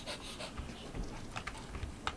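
A dog pants rapidly and steadily close by, its quick breaths running throughout alongside faint clicking from a keyboard.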